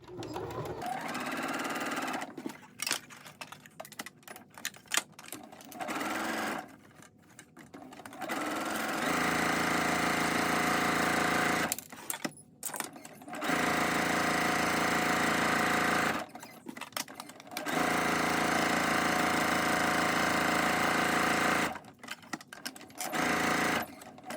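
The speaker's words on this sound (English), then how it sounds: "We're now going to sew all the way around our mask with a 1/4 inch seam allowance" A sewing machine stitches a quarter-inch seam around a rectangular fabric face mask, running in loud sustained bursts of rapid whirring separated by short pauses for turning the fabric.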